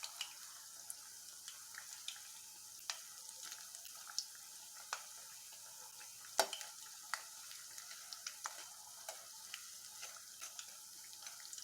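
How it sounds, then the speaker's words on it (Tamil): A red sweet snack fries in hot oil before going into sugar syrup, a steady close sizzle dotted with small sharp pops and crackles, with no voices. "இப்போ இது பொரிச்சு எடுத்துகிட்டு நான் ஜீராவில் போடும்போது காமிக்கிறேங்க"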